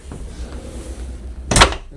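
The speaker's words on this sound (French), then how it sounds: "On referme la porte de chaque côté." A rear tilt-and-turn door on a Bali catamaran swings shut with one loud, close thud and brief rattle of the latch, following a softer handling sound and quiet background.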